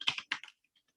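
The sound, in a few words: typing on a computer keyboard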